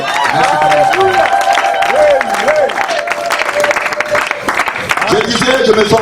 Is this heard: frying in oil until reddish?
no